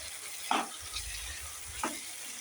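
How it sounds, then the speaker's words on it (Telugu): Ginger garlic paste being stirred into frying vegetables for vegetable rice: a steady low sizzle with two sharp scraping stirs of the spoon against the pan, close and fairly quiet. "అల్లం వెల్లుల్లి పేస్ట్ వేసి బాగా మిక్స్ చేసుకోవాలి."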